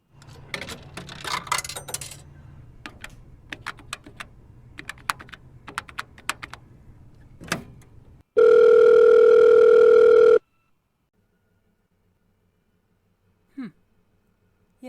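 Coins clatter into a payphone in a Garry's Mod scene, followed by a quick run of button presses and then a steady, loud dial-type tone for about two seconds before silence and a faint click.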